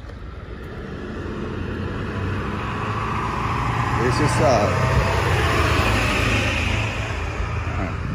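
A loud truck rumbles past close by at a golf course, its engine noise swelling loud and then easing off, while a person speaks briefly over it.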